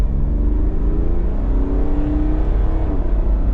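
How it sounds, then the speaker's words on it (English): An INEOS Grenadier's engine pulls hard as the vehicle accelerates toward 60 mph, a loud continuous drone with rising tone and a shift-like dip near the end, heard from inside. "So I'll give you a bit of an acceleration up to the 60."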